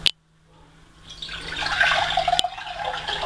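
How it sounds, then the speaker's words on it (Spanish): Water being poured into a vessel to make a celandine decoction, a soft splash at the start followed by a steady, rising stream of liquid that fills the rest of the moment, heard alone and close. "Echamos el litro de agua."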